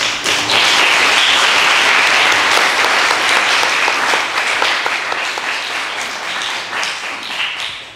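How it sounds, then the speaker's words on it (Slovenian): An audience at a documentary film premiere in a town cinema applauds Marjan, sustained, loud, even clapping that carries on for the whole stretch and eases slightly toward the end. "predlagam, da pa še Marjan en aplavz"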